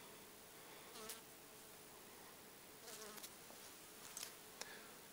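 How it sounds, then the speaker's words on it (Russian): Honeybees fly inside a winter bee shed at about nine degrees above zero, a faint steady buzz with a few louder passes as single bees drift close to the microphone. "Вот летают пчелы."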